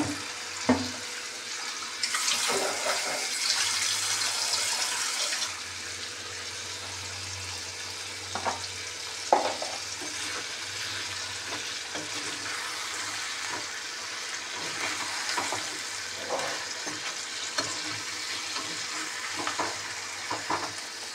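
Bhetki fish bones fry in a pan with a steady broadband sizzle lasting throughout, swelling louder early on, with occasional clinks and stirring scrapes over the hiss.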